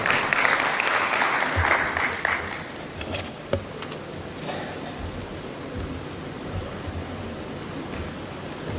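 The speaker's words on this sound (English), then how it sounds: "A round of applause." A round of applause fills a joint parliamentary group meeting of UDA and ODM legislators, with dense clapping loudest for the first couple of seconds and then thinning into a scattered, lingering patter with room murmur.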